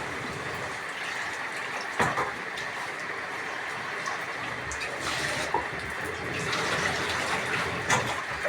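Water pours into a cooking pot with a continuous rushing splash, of moderate loudness. A few small knocks and clanks rise above it now and then.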